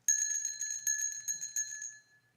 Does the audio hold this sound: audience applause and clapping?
no